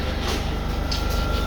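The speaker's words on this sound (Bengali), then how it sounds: "ট্রেনটি আস্তে আস্তে তার গতিসীমা বাড়িয়ে দিচ্ছে" Inside a metro rail car on a line bound for Uttara North, a steady low rumble and hum of the train pulling away and gathering speed, continuous and fairly loud, with no voices.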